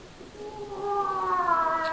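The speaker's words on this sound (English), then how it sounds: "It's only old Mother Smead's cat after the nightingale." Cat yowling at night as a radio comedy sound effect, a rising, wavering wail that swells louder over about two seconds, heard alone without talk.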